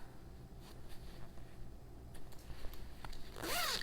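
A small clothing zipper fitted with little zipper tabs on a handmade item is handled and pulled, giving faint scattered scratchy clicks and then a closer, brief zipping rasp at the end.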